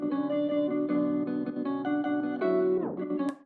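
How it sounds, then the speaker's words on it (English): Chopped Omnisphere synth melody, sustained harmonic tones that shift between segments and end in a downward pitch bend before cutting off, played alone with no talk. "I chopped the first omnisphere melody and it sounds like this."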